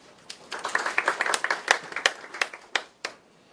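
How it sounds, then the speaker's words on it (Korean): Applause after presentations at a real estate finance investment forum seminar: a sparse, uneven burst of claps from a small audience, a few dozen distinct hand claps rising and thinning out over a few seconds. "박수 부탁드립니다"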